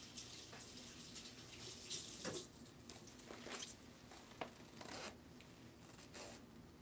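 Water runs quietly and steadily from a tap, with a soft continuous hiss broken by a few brief splashes and patters.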